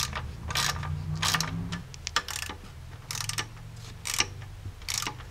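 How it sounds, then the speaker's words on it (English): A ratchet tightens bolts threaded into aluminum during a slip yoke eliminator install on a vehicle, giving several short bursts of quick clicking separated by pauses, close by, with a low steady hum underneath. "I'm just going to tighten it up in a crisscross pattern"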